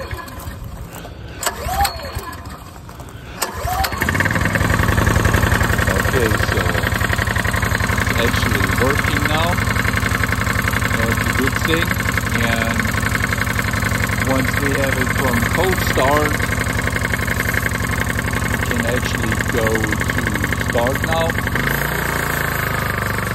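A Ryobi RYi4022VNM generator catches after a cold start and settles into a steady, loud, close running drone with a faint knock, following a few seconds of quieter handling sounds and brief talk.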